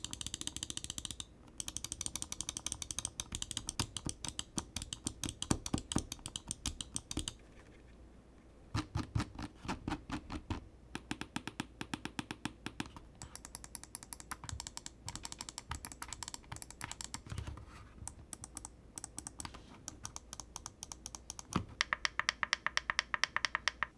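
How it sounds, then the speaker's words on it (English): Switches on a Razer Viper ultralight gaming mouse clicking, with rapid crisp clicks in dense bursts, brief pauses between runs, and close and quiet with no talk. "Here's a quick sound test so you guys can hear how all the switches on the mouse sound"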